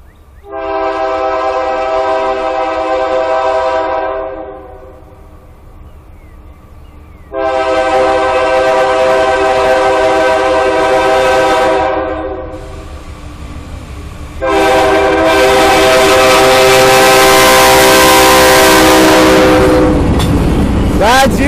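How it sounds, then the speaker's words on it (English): Union Pacific tanker freight train with one headlight out, sounding its multi-tone horn in three long blasts as it approaches and passes close by, the wheel and rail roar building loud at the end. "Bad train coming."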